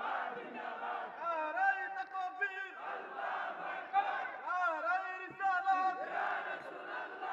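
A large congregation at a waz gathering shouts takbir together in loud, sustained waves of massed voices, rising and falling in long chanted calls.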